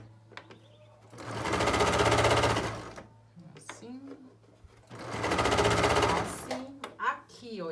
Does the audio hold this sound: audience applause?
no